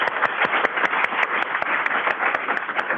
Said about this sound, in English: So there's a round of applause